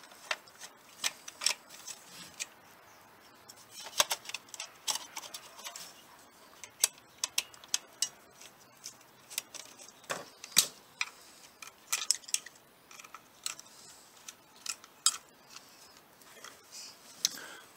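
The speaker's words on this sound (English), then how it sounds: "take the back off and take out these little screws" Small screws being taken out of the back of a tap-light tattoo foot pedal: sparse, irregular metallic ticks and clicks, close and quiet, with no talking.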